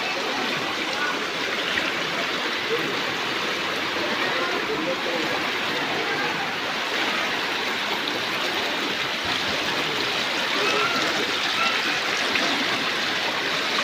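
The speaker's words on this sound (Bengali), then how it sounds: "রাস্তার উপরে যেভাবে হাঁটু জল বইছে" Knee-deep floodwater rushes along a town street in flooded Purulia, a dense steady wash of flowing water that stays loud and continuous throughout.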